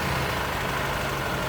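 A superbike with its stock exhaust, freshly serviced, runs at a steady idle with a smooth, even low rumble throughout and no voices.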